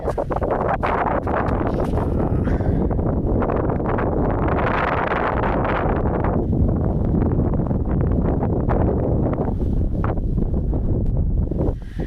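Strong, steady wind gusting across a microphone on a snowy mountain trail on the Lago Sorapis loop, a continuous loud roar with surging swells and no voices.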